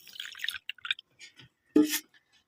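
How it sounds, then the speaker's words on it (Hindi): Rice being washed in a bowl of water, with soft splashes, drips and sloshing in short bursts and one louder splash near the end, close and quiet with no talk. "तो बस मैं इधर चावलों को वॉश कर लेती"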